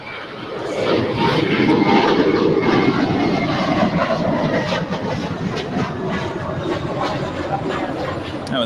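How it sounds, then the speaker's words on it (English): JetBlue Airbus A321 airliner departing LAX, a steady loud broadband jet roar that swells in after the first second and holds for several seconds before easing slightly, with a faint voice beneath. "That was a JetBlue A321 on our way to Fort Lauderdale"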